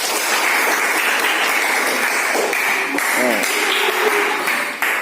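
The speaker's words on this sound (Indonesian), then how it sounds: "berikan aplaus dulu" Classroom applause from students after a short presentation, steady dense clapping filling the whole stretch with a few faint voices and small tonal pings mixed in.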